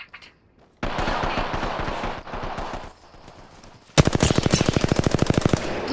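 An R99 submachine gun from Apex Legends fires in close, loud bursts: a first burst that stutters out, a quieter pause, then a long, fast, steady stream of shots.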